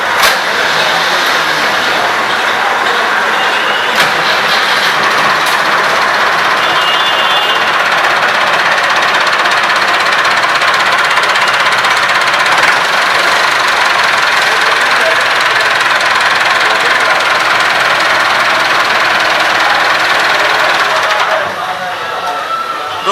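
A 2013-model tractor engine runs at a steady idle, with a continuous loud mechanical knocking drone that holds for about twenty seconds before easing slightly near the end.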